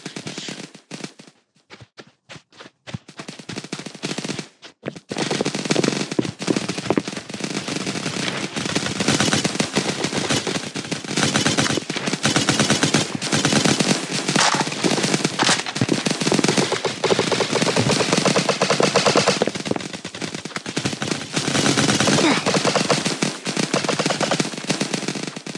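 Rapid airsoft gunfire in a Roblox tactical combat match, sustained dense bursts of automatic shots that begin after a few sparse cracks and continue loud and close for over twenty seconds.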